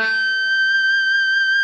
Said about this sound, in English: Mid to low is going to have the feedback typically start on the highest harmonic below around 500 hertz